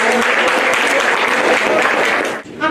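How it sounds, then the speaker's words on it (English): A summer camp graduation audience applauds Keon and Malachi, a loud, dense wash of clapping close by that holds steady, then dips abruptly near the end. "Let's give another round of applause for Keon and Malachi"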